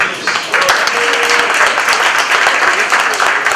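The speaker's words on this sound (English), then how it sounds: "Let's give a real round of applause to John." A burst of dense applause from a crowd, steady and loud throughout, with some voices mixed in.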